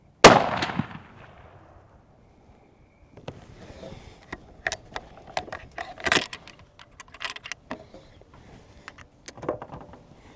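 A single loud, sharp rifle shot from a Winchester Model 70 chambered in 6.8 Western, fired at a 100-yard target, booms and decays at the start, followed by scattered metallic clicks and rattles close by.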